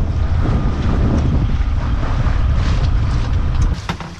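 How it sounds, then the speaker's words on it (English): Steady wind rush and water wash aboard a sailboat moving at about four knots in a light breeze, a continuous loud roar of air over the microphone with hull splashing beneath, and no voices. "Got a really nice sail going on here. We're four knots, a nice light breeze."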